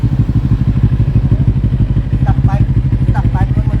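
A big bike motorcycle with a loud modified exhaust idles and revs close by, pulsing throaty engine with clattering, while people talk over it on a city street.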